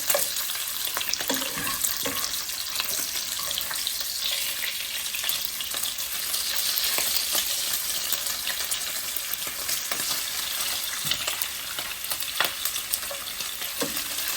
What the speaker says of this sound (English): I'm gonna have 2 more pieces of bacon to fry up